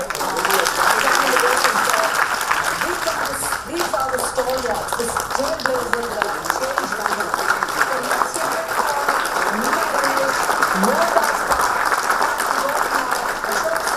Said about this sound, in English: a really, really loud round of applause